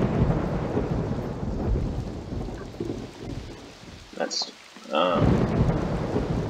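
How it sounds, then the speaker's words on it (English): Thunderstorm in the game RollerCoaster Tycoon 3 Soaked: steady rain hiss with a loud, deep thunder rumble. A voice speaks briefly near the end. "Man, that thunder is loud."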